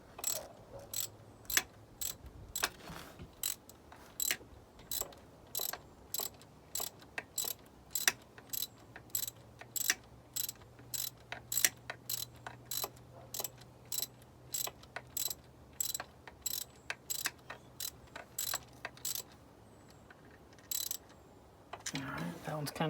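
Under a Mini Cooper S R56, a ratchet works the exhaust manifold bolts, its quick crisp clicks coming in uneven bursts throughout, close and fairly quiet over a low background hum.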